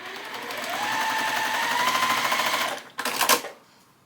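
Sewing machine stitching quilt block pieces for a berry block, a steady close mechanical hum with rapid needle chatter for most of the clip, then a short sharp burst as stitching stops.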